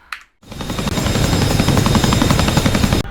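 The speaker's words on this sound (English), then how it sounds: "Now that we've started the helicopter," A CH-47F Chinook helicopter in the DCS simulator spins up after a brief pause into a loud, steady, rhythmic rotor thump and engine whine, close and continuous with no talk.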